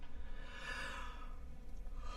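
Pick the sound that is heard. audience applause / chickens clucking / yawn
yawn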